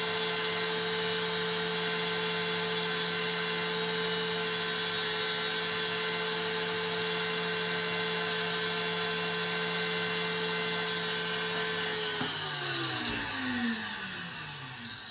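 An electric mixer whisks egg whites to stiff peaks with a steady, droning motor whine that holds level, then shifts and drops in pitch near the end.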